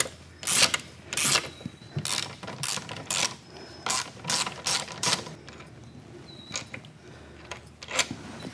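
A ratchet wrench loosens the nut on a Tiger Cub motorcycle fork in a workshop, giving repeated close bursts of rapid metallic clicking in uneven strokes with short pauses between.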